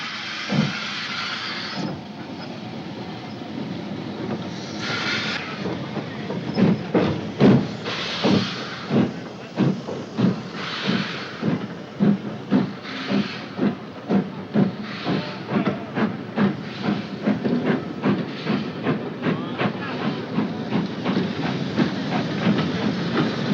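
A Black Five steam locomotive chuffs rhythmically near Glenfinnan in Scotland, its exhaust beats growing steadier and faster, with hissing steam and rolling wheel noise throughout.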